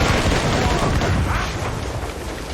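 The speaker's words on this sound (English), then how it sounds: "They're firing a volley! Incoming fire!" Ships' cannons fire volleys in a naval battle in Assassin's Creed Rogue, producing dense, loud, continuous booming and crackling that stays close and steady throughout.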